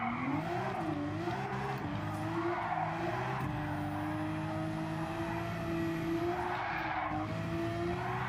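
An engine-swapped Subaru BRZ GT300 race car in Gran Turismo 7 drones with a steady, loud, buzzing engine note that rises and falls slightly through the clip, with faint tire squeal over it and no talking.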